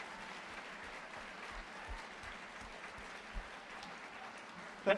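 Faint, distant applause, a soft steady patter of clapping from a crowd, with a couple of louder bumps near the end.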